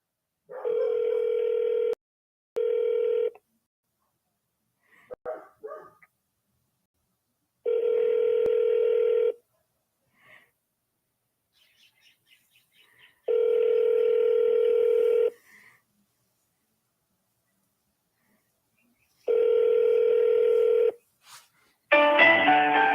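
Phone line tones while returning calls: several steady beeping tone bursts separated by silences, a short burst of rapid dialing tones in between, then a final rushing burst near the end, with no talking.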